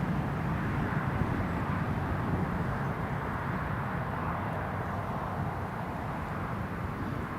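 A Ryanair airliner passes at Newcastle Airport, a steady broadband jet roar holding at a constant, moderately distant level throughout with no voices over it.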